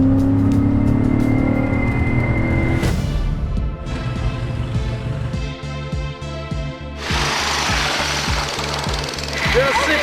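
A 2002 Cadillac Eldorado engine accelerates hard, a loud close-up roar that shifts abruptly in pitch as the gears change and keeps pulling strongly right to the end.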